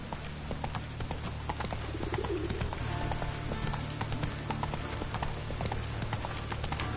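Hooves of the horse Roach galloping in The Witcher 3, a continuous rhythmic clip-clop over a steady low game ambience, with faint bird calls in the background.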